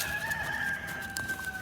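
On a homestead, a rooster crows with one long, drawn-out call among chickens, moderately loud and near, without any talking.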